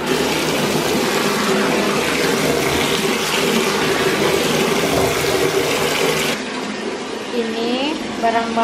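Steady, loud tap water gushing continuously while groceries for a festive holiday are washed at home in Malaysia, the flow easing slightly near the end.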